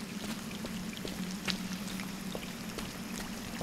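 Water flows steadily beside a lake in the video game Scanner Sombre, a soft continuous pouring and trickling wash with faint droplet ticks, no voices.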